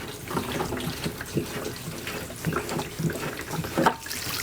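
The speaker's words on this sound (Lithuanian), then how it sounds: "Tiesiog išpilam vandenį." Water splashes and gurgles as it pours steadily out of the drain opening of a Pulmic Pegasus 75-litre battery-powered wheeled sprayer, with uneven sloshing bursts throughout.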